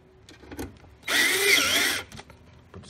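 Power drill driving screws back into a blower fan kit for a Lopi, Avalon or Travis stove, one loud, close whirring burst of about a second amid light handling clatter.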